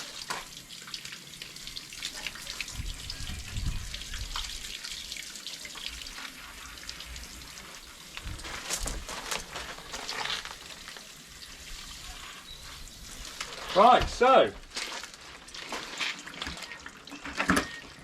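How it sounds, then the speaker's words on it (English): Water runs from a tap into a bucket of warm water mixed with bike cleaner, a steady low splash and gurgle that rises louder near the end, with a few brief spoken words. "bucket of warm water"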